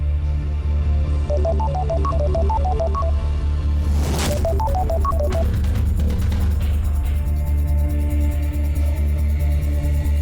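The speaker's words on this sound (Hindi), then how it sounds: "आपके फोन बड़े आते हैं" A telephone rings in a Hindi crime drama scene, short chirping ring bursts repeating twice, separated by a brief swell of dramatic music over a constant low drone.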